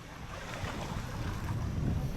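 Sea waves and wind by the shore, a continuous rushing wash with buffeting microphone wind noise, steady and fairly close with no voices.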